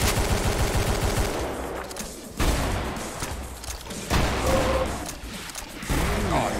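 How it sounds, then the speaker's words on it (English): A minigun fires in the video game Brutal DOOM: Vanguard in dense, sustained bursts broken by brief pauses, loud and close with booming low end. "Thank you, minigun!"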